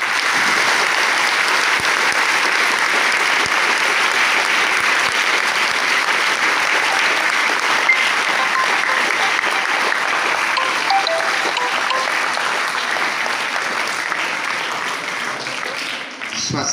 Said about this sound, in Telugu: చప్పట్లు కూడా ఒక గొప్ప యోగ ప్రక్రియ